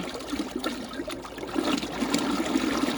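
Small Yamaha 12M electric outboard motor churning water in a small tank beside a PVC boat, a steady bubbling, splashing swirl that grows slightly stronger partway through.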